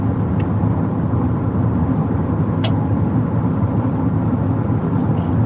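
A Jeep cruising on the highway at about 80 mph, giving a steady, loud roar of engine, tyres and wind that holds constant throughout, with a couple of faint brief clicks on top.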